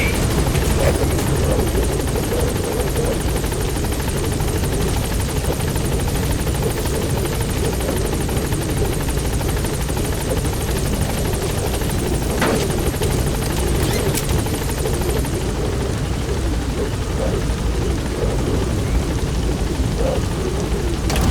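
The Pequod helicopter in Metal Gear Solid V arrives at a landing zone, its rotor giving a loud, steady, close whump and engine roar that fills the whole stretch without a break.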